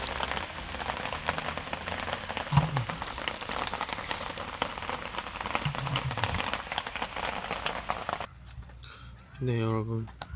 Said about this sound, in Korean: 비가 오다 말고 미스트가 돼서 비가 오고 있습니다